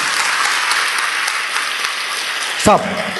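A crowd at a Telugu public speech gives a steady, hissing wash of applause that stays fairly even throughout, with a short louder knock near the end.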